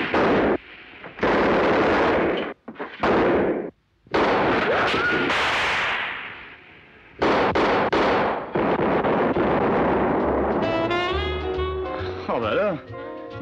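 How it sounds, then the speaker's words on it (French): Cannon fire and other gunfire from a 1962 French film trailer, heard as a series of sharp loud blasts and bursts with abrupt cuts, mixed with dialogue and a score. "il se met à tirer au canon maintenant"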